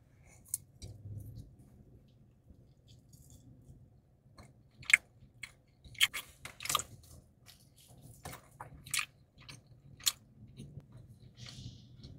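Someone chews Whole Foods hot bar chili wings up close in a quiet room, with scattered wet bites and soft squishy mouth sounds set apart by pauses, over a faint low hum.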